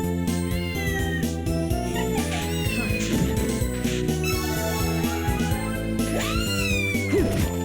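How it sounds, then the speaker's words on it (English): A cat meows several times in the Order of Ecclesia video game, rising and falling cries heard over constant game music with chiming tones, and no voices over it. "Oh, here's the cat."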